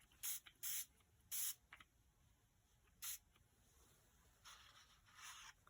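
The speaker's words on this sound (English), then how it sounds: "I'm going to spray it with this" Tattered Angels spray mist hisses onto a paper card in several short, separate bursts, close and crisp, with a quiet pause in the middle before a softer, longer spray near the end.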